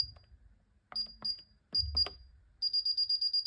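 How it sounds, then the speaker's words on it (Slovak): A Paradox K641+ alarm keypad gives short high beeps while a code is entered: single key-press beeps, then a quick run of rapid confirmation tones at the end, close and clear. "Pre odstráženie systému zadajte na klávesnici váš osobný kód."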